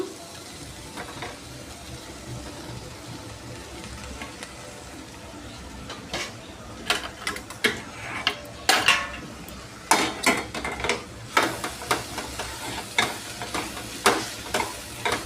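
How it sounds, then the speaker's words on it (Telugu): Boiled, peeled potato pieces tipped into a pan of fried onions for a poori curry, then stirred, with scraping clatter of a spoon against the pan building into repeated loud bursts over a low sizzle. "ఈ తరుక్కున్న ముక్కలన్నీ ఇందులో వేసేద్దాం"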